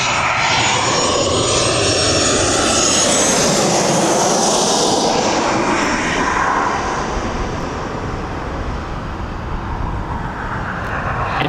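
A fixed-wing aircraft's engines roar loud and continuous at East Midlands Airport, the broad jet noise swelling and shifting slightly as the plane passes close by, with no voices over it.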